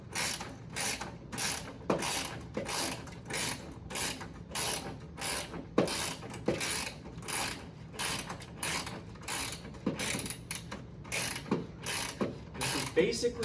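Socket wrench ratcheting in rapid, steady bursts while tightening a bolt during setup of an early solid-state Williams pinball machine, close and clear with a few sharper clicks, no talk.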